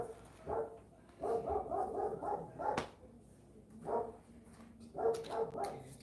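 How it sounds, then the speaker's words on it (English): A passing dog gives several bursts of barking and yipping at moderate distance, in irregular groups over a steady outdoor background, with no talk. "we had a dog just walk by."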